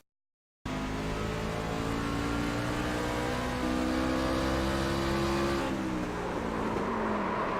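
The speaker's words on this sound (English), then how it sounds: "See, just listen to the engine here." Race car engine heard onboard during a race at Lucas Oil, a loud sustained roar with shifting pitch as the car accelerates and changes gear, starting abruptly after a brief silence and with no talk.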